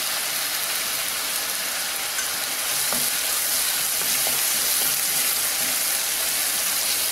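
Curry leaves sizzle in hot oil with onion for a Chettinad vanjiram fish kulambu, giving a steady broadband hiss and crackle with a few soft pops, at an even level throughout.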